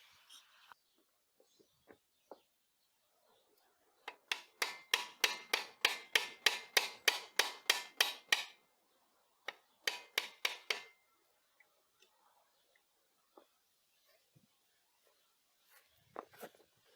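A rapid run of sharp hammer blows lands in two bursts, about a dozen evenly spaced strikes and then a shorter flurry, close by with quiet gaps around them.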